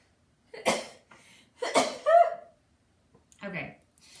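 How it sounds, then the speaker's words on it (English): A person's sneeze comes as a sharp, close burst with breathy bits before and after, then another short, gasping exhalation follows. "I feel like I have to sneeze too"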